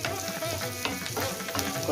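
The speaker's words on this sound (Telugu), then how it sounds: "కొద్దిసేపు ఉల్లిపాయలు వేగండి" Onions frying in hot oil for a sambar tempering, a dense, continuous close sizzle with bubbling crackle throughout and no talk.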